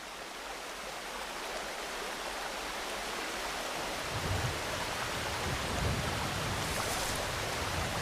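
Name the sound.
rain falling in a mangrove forest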